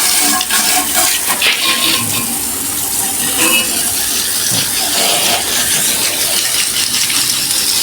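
A strong water jet sprays across the dirty coil of an outdoor air conditioner unit, washing the grime off in a loud, steady, close hiss with rattling spatter and no talking.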